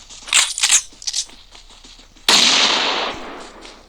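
A grenade goes off in an online shooter game: a sudden loud burst of blast noise with a hissing tail that fades over about a second, after a few sharp clicks and pops.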